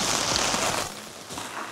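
Heavy rain drums down at a campsite, a steady broadband wash with a few heavier patter bursts, close and moderately loud, no voices.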